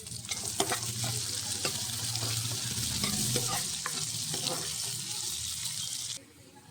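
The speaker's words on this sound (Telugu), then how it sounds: "చిన్నగా కట్ చేసి పెట్టుకున్న ఆనియన్స్ను రెడ్ కలర్ వచ్చే వరకు అయితే వేయించుకోవాలి" Finely chopped onions, green chillies and mustard seeds frying in a pan for chana masala, a continuous close sizzle with scraping stirs and occasional sharp clicks before the hiss cuts off abruptly near the end.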